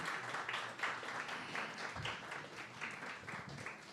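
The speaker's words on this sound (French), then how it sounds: "Et on peut encore les applaudir." Moderate applause from an audience at a Montreal myth-busting talk event, steady overlapping clapping for a few seconds, not especially close or loud.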